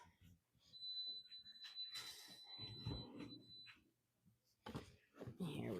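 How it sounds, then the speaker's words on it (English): Oven timer signalling that raspberry white chocolate chip sourdough discard muffins are done, a thin steady high beep tone held for about three seconds in a home kitchen, partly under close conversational speech. "our muffins are beeping at us"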